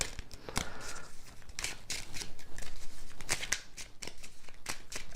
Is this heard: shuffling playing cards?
yes